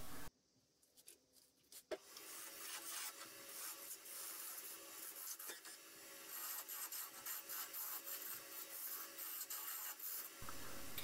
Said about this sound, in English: this parting tool is a quick way of shaping a bead